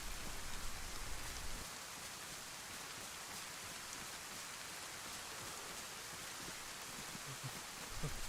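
Steady rain falls in the zombie survival video game DayZ, a dense, even hiss of drops with no pauses, faint and continuous throughout, and nobody talking.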